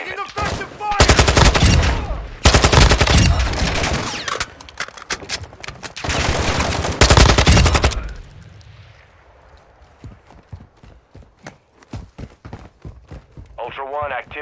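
Loud bursts of machine-gun fire and gunshots in a first-person shooter video game, dense repeated volleys in the first eight seconds, then scattered sharper shots and quieter game noise, with a radio-style voice speaking over it.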